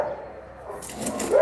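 Dogs bark at an animal shelter housing about sixty dogs, a steady mid-loudness chorus of barks and yips blending together, building slightly toward the end.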